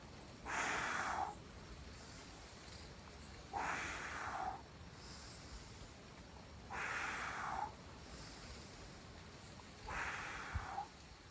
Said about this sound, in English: Where you breathe in, blow the candle out.